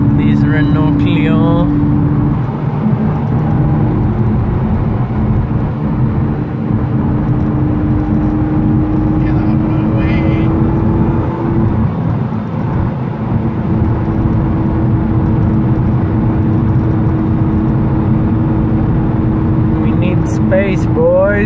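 Renault Clio cars and trucks passing by on a road, a continuous loud engine drone and tyre rumble with whirring tones rising and falling as vehicles go by.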